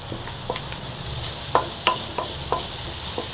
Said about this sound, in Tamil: நல்லா ஃப்ரை பண்ணி நல்லா ஃப்ரை ஆகட்டும்